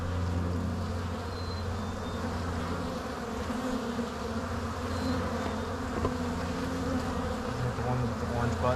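Honeybees swarming in front of a hive, a dense, steady buzzing drone close to the microphone that carries on for the whole stretch, with individual bees passing by now and then.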